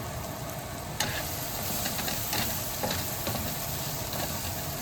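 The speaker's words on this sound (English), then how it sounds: "Sauteing it in the butter and steak grease." Onions sautéing in butter and steak grease, giving a constant close sizzle and crackle with a sharp clatter near the start and light stirring scrapes throughout, no talking.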